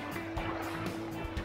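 A small creek flows beside a rocky hiking trail near a wild hot spring, a steady close rush and gurgle of water with no voices.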